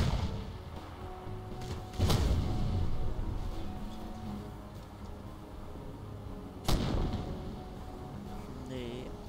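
Grenades going off in the video game Crysis, two sharp blasts several seconds apart, each a loud thud with a short rumbling tail over steady game ambience.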